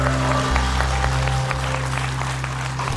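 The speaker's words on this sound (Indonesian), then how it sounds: "Tepuk tangan dulu buat Sule dong." A talk show studio audience in Indonesia applauds loudly and continuously, a dense wash of clapping filling the whole moment.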